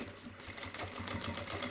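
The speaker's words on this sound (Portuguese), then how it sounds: "então vou passar uma costura aqui." Quiet, steady whirr of a sewing machine stitching down a pocket on a fabric panel, with a rapid regular needle pulse running throughout.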